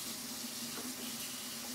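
Hot water runs steadily from a tap for mixing with honey and molasses in a kitchen, a soft, even stream heard alone with no talk.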